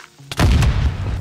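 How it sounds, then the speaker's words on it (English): A Minecraft creeper explosion, one sudden loud booming blast that rolls off into a low rumble, close and alone without talk. "Minecraft kind of makes it seem like you could just eat a creeper explosion"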